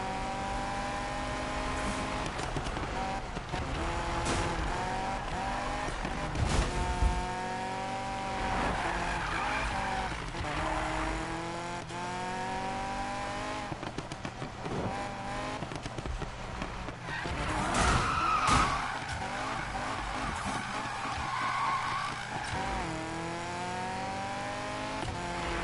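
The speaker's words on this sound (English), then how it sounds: "this MX-5 really handling quite nice through these turns" A Mazda MX-5 in Need for Speed (2015) drifts through turns, its tires squealing and skidding in long continuous sweeps over a steady engine drone, with pitch rising and falling through each corner and some racing music or effects mixed in.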